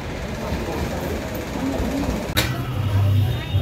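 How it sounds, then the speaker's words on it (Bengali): A train pulls in at a station in Kolkata, a steady rumbling rail noise with a sharp clank partway through and a low hum as it comes to rest, fairly loud and close. "এই ট্রেন চলে এসছে এখন"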